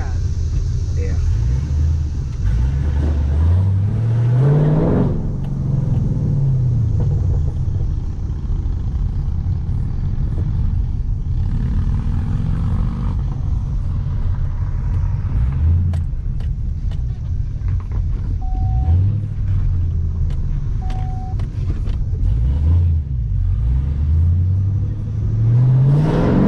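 A car rolls slowly and settles into a gravel parking spot, with a steady engine rumble and brief revving through the whole stretch while people talk nearby.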